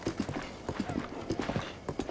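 A horse gallops in the game Zelda: Breath of the Wild, its hooves making quick, steady clip-clop beats that run close and clear through the whole stretch, with no talking over them.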